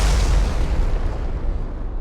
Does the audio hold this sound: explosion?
yes